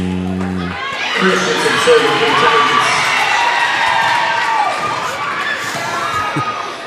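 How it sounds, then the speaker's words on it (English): Loud crowd cheering at a varsity high school volleyball game, high-pitched shouts and whoops from students filling the gym, beginning right after a brief tone and sustained throughout. "cheering for Chloe Christensen"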